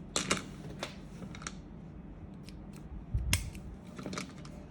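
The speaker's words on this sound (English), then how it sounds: "Cut your fishing line." Scissors snip through 0.17 fishing line while making a cage bead bag, giving a few quick, close, crisp clicks scattered over a quiet room hum, with one stronger snip near the end.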